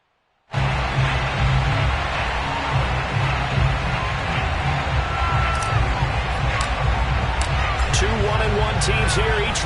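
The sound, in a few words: stadium crowd at a football game in Landover, Maryland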